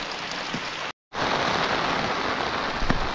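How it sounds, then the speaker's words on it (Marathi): Steady hiss of rain falling, a dense wash of drops with a brief silent gap early on, then continuing evenly and fairly close. "आता पाऊस इलो त्यामुळे"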